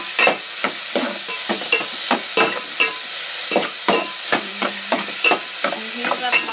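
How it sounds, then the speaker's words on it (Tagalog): Sardines frying in a pan toward golden brown make a bright, crackling sizzle broken by frequent rhythmic utensil scrapes and taps, close and loud. "kailangan maging golden brown na yan sila lahat para mas lalong malasa ang ating sardinas"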